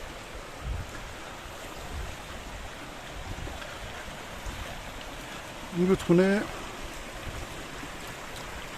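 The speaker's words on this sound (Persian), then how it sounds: "رودخانه کن یا سولغان مشهوره دستبان کم آب شده" The Kan (Solghan) river, running low on water in the Tehran village countryside, flows with a steady broad rush. A voice speaks briefly near the end, and a few short chirps break through the wash.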